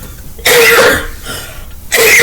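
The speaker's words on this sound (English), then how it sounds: "I'm coughing so much" A woman coughs hard in two loud, close bursts, with a short quiet gap between them.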